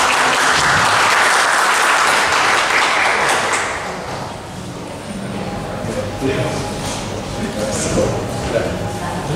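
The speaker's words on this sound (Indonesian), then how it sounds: "Mari tepuk tangan" Applause from a church audience at the inauguration of a third-floor hall, loud dense clapping for about four seconds that then eases to a softer, steadier patter with a few voices underneath.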